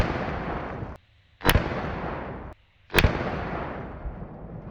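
Two loud rifle shots from a 6.5 Creedmoor or .308 fired at targets of wood, concrete, steel and armor outdoors, each a sharp crack followed by a long rolling echo, about 1.5 seconds apart.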